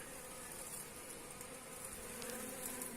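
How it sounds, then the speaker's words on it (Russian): Honeybees hum around a hive in a steady, soft drone, many insects buzzing together at a distance with no voices, a quiet continuous whir. "Вон пчелки полезли уже в ту семью, набивают себе дорогу."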